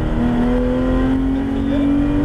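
A Porsche GT3 accelerates out of a drift, its engine holding a loud, steady high-pitched note that climbs slightly over two seconds, close and continuous, with no talk.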